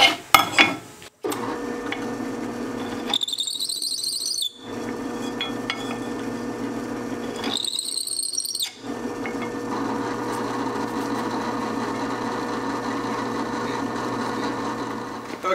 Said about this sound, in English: we'll just give this a quick chamfer